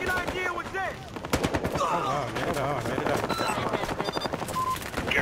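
Rapid bursts of Uzi submachine gun fire in Battlefield Hardline, loud, sharp cracks in quick strings over a busy game soundscape with other shots and effects, a voice talking briefly between bursts.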